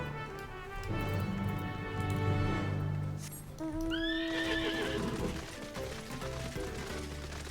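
Chocobo mount in Final Fantasy XIV, a mechanical bird-horse, trotting with steady clip-clop hoofbeats and a whinny-like call midway, set against game music and mechanical clanks, all fairly quiet.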